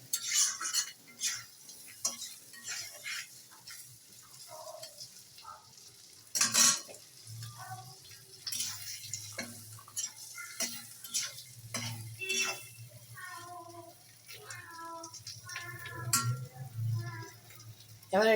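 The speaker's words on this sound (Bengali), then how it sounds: "এবার আমি সসেসটাকে ভালো করে ভেজে নেব" Chicken sausage with chilli powder and meat masala fries in a pan, a soft sizzle broken by utensil stirring and clinks against the metal, with someone speaking at times.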